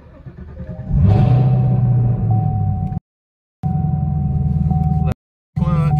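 A 2017 Chevrolet Camaro ZL1 with its LT4 engine starting up, a deep steady rumble with a whining tone, cut by brief silent gaps and resuming strongly nearby.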